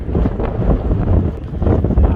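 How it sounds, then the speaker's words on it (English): Steady, blustery wind buffets the microphone outdoors at an antique engine and tractor show in Florida, a loud low rumble that surges and eases throughout with no voices. "It's pretty windy here today."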